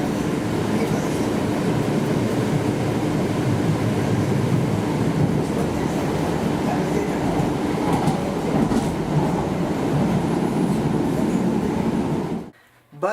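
Inside a high-floor Type 1 MAX light rail car while riding, a steady rolling rumble and hum of the wheels on track continues throughout, with soft rattles and a brief pause near the end.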